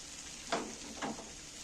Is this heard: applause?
no